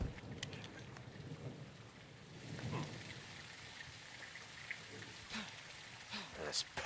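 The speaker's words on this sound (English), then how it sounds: "It's raining fucking hard." Heavy rain pours steadily in a Modern Warfare 2 campaign level, a constant hiss with faint rumbles, while voices talk over it intermittently.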